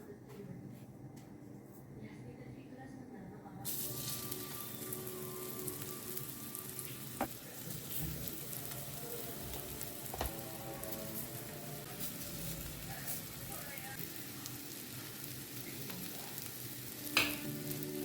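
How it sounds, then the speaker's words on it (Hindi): Semolina-coated taro root pieces frying in oil give a continuous, quiet crackling sizzle like light rain throughout, with an occasional faint tap, and a voice speaks softly underneath. "इसको अच्छे से रवा में कोट करके फ्राई करते हैं।"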